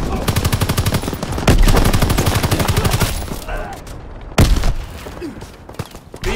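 Heavy machine-gun fire in Call of Duty WWII with a tank engaging infantry: a fast, rhythmic stream of loud close shots, then a booming blast midway and another sharp explosion later, with battlefield rumble between.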